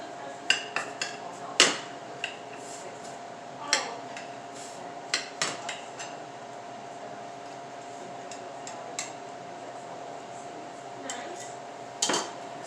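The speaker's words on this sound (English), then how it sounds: "So now let's cut into this Tortilla Española and see how it looks." Knife cutting into a Tortilla Española in the pan: sharp metallic clinks and taps against the pan, scattered and irregular, over a steady faint hum with no talking.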